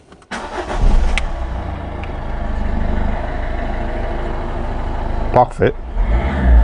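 A Peugeot 207 1.4 HDi diesel engine cranks and catches almost at once, then settles into a steady, close diesel idle; someone speaks briefly near the end over the running engine.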